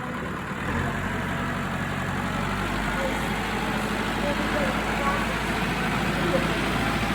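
Farm tractor engine running steadily at a low idle-like rumble throughout, with faint background noise.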